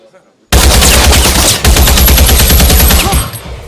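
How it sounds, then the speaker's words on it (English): Rifles fire on command in a historical war film, a loud ragged burst of overlapping shots that fills nearly three seconds after a short quiet lead-in and then trails off. "Ready? Aim. Fire!"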